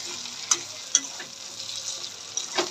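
A spoon stirs cumin paste in a frying pan with a low, quiet sizzle, punctuated by a few sharp scraping knocks against the pan.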